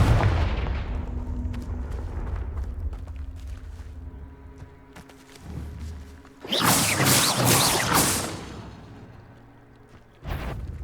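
In Hogwarts Legacy, the Confringo spell fires off with a short rumble, then a loud, crackling burst lasting around two seconds, followed by a second brief blast near the end.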